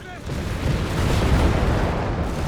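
Grenade explosions in Company of Heroes 3, a rolling wall of deep booming blasts that swells and holds loud throughout, with no separate clear bursts.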